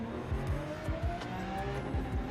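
A race car's engine in Forza Motorsport revs hard as it accelerates without shifting, a loud, continuous rising whine with repeated pitch sweeps and a brief tire squeal, no talk.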